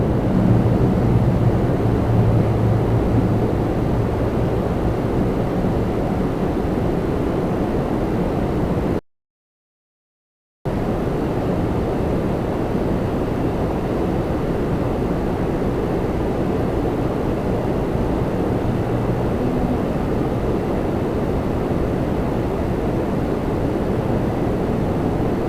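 A Jazz airliner, flight 508, landing on runway 24 right at Toronto Pearson, heard as a steady, broad roar that holds for the whole stretch apart from one short gap of silence.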